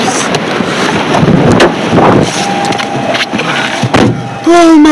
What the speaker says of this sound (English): that was 30, 40 mile an hour wind gust right there. We're shaking the car again.